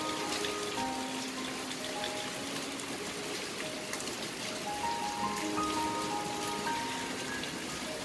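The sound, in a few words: first rain of the season falling on a flower garden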